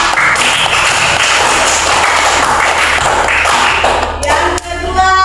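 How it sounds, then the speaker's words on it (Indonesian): Classroom applause from a group of students, dense steady clapping filling the space at a loud level before tapering briefly and picking back up near the end. "berikan tepuk tangan."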